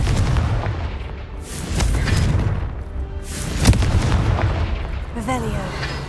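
Confringo explosion spell blasts in Hogwarts Legacy, several heavy booming bursts spread across the stretch with one sharp crack near the middle, mixed with game effects and a voice calling out.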